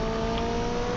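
Steady, loud engine drone of a McLaren 600LT in the racing game NFS Unbound as it spins out, a continuous tonal roar without breaks or talking.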